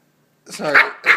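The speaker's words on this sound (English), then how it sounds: "Shut your puppy mouth." A crazy puppy gives a couple of short, close, loud barks with a growly edge, two quick bursts after a moment of silence.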